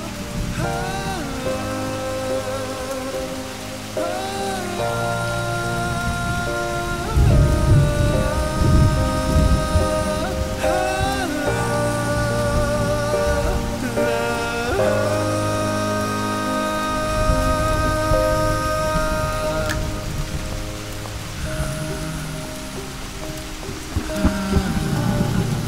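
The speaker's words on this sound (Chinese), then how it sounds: "肯定会是倾盆大雨。" A heavy downpour of rain pours steadily throughout, a dense, continuous wash sitting beneath prominent music that plays over the whole stretch.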